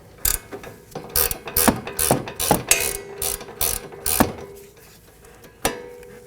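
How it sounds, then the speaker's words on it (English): A wrench works loose the 18mm nut on the front left control arm of a 2020-2027 Toyota Corolla, the bolt held with a 5mm Allen key; sharp ratcheting clicks and metallic knocks come in irregular bursts, close and alone. "I'm going to secure it with a 5mm Allen key and remove it with a wrench."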